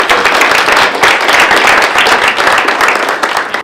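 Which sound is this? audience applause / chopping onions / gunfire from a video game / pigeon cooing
audience applause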